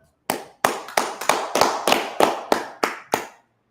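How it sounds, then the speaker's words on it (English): A congregation at a Northern California Sabbath service claps in unison, about ten sharp, evenly spaced claps ringing out clearly with no talking over them. "Let's clap it up for the Most High"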